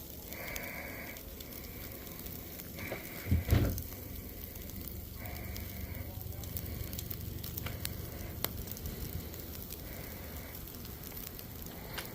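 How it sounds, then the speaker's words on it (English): A slab of riblets sizzles steadily on an Even Embers suitcase grill, a constant close frying hiss with a brief clatter partway through and no talk. "You can hear them cooking pretty nice. Nice slab of riblets."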